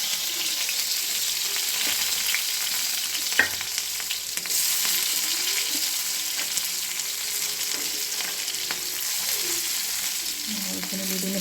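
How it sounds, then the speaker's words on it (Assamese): Onion and garlic sizzle steadily in a hot pan, a continuous bright hiss with occasional stirring knocks and scrapes, close and loud throughout with no talking. "এতিয়া পিঁয়াজ নহৰু ভালদৰে ফ্ৰাই কৰিম।"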